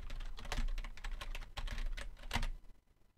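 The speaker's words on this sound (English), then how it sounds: "the keycaps are pretty loud" Rapid typing on a SteelSeries Apex 100 full-size membrane keyboard, its keycaps clacking in quick close bursts before falling quiet at the end.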